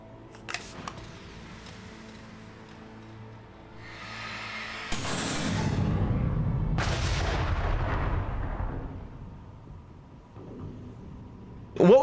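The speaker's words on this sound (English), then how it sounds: "Oh, fireworks." Fireworks go off in Alan Wake, loud booming bursts with crackling tails, one large blast followed by a second, close and alone for several seconds.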